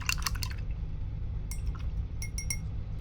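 An acrylic paintbrush is rinsed in a water cup, with quick clinks and splashy swishes against the container at the start and again midway, over a low steady background hum.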